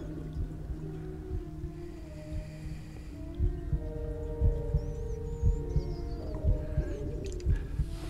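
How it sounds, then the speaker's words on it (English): A tonal, eerie humming melody of Three Blind Mice in the video game Little Nightmares, faint and wavering over a low, throbbing rhythmic pulse, with no talking. "It sounds like somebody's humming the Three Blind Mice."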